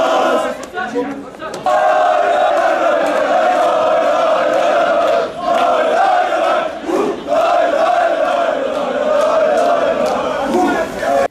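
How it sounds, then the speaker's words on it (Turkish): Galatasaray football fans chant together after a derby match as police keep rival groups apart, a loud, sustained crowd roar of massed voices with rhythmic swells and brief dips. "Bir süre tezahürat eden Galatasaray taraftarları polisin uyarılarının ardından sloganlar atarak dağıldı."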